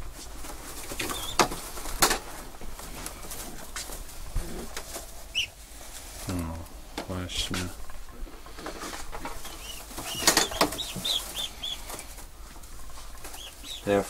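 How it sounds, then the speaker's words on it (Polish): Pigeons being repacked from basket to basket flap their wings in repeated bursts, with pattering, rustling and scattered coos, close and busy throughout. "gołębie są przepakowywane z kosza do kosza"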